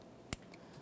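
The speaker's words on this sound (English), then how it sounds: "We'll just go ahead and line that up, press it in. Audible click, a light tug." An electrical connector on a 2012–2015 Honda Civic 1.8L four-cylinder, near the variable valve timing solenoid, is pressed into place with one sharp, quiet click in an otherwise near-silent moment.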